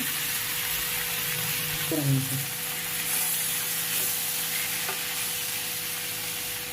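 Tomatoes sauté in a pan for chicken curry, a steady close sizzle and hiss that runs the whole time, with a brief tonal squeak partway through.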